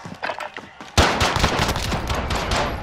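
Gunfire in Call of Duty Warzone, faint shots first, then a loud crack followed by a dense run of rapid shots and rumbling reports continuing close and heavy to the end.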